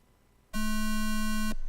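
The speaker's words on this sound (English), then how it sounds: "It's doing a normal beep today." Electronic race-start tone at an on-road RC car track, a single steady buzzy beep lasting about one second, loud and alone against a quiet background.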